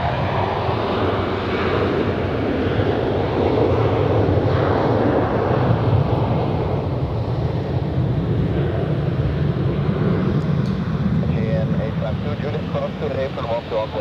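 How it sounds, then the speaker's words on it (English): A Helvetic airliner on the runway at Zurich Airport gives a steady, loud jet roar with wind buffeting the microphone, and a voice talks over it. "Helvetic on the runway going to Belgrade"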